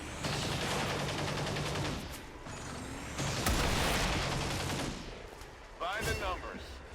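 Chain shot gunfire in XCOM 2 War of the Chosen: loud bursts of shots and mechanical clatter that fill most of the stretch, with a brief voice near the end.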